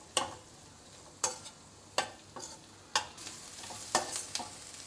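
Garlic and onion frying in butter in a pan, a soft continuous sizzle broken by about five sharp scraping stirs at roughly one-second intervals, close and quiet with no talk.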